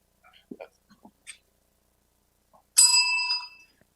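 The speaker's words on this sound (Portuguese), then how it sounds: "Toca a campainha aí, Maiká." A bicycle-style bell rung once on a TV show set, a bright ringing tone that decays over about a second after a few scattered faint sounds.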